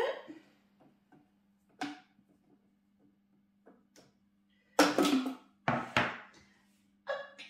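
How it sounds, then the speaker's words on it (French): A lid set back onto a pot for radish-top and chorizo velouté, heard as a few sharp clattering knocks and scrapes in quick succession, close and moderately loud, after quiet small clicks. "Et on va remettre le couvercle."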